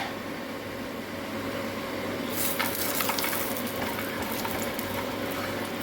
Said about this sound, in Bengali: বড়িগুলো আগে ভেজে নিই